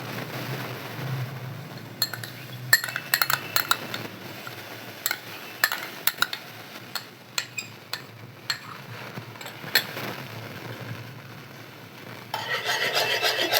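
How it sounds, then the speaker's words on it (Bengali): Egg yolk is mixed into ice cream in a bowl, a continuous close scraping and stirring with scattered clinks of utensil against the bowl. "এবার আইসক্রিমের মধ্যে ডিমের কুসুমটা আমি মিশিয়ে দেবো"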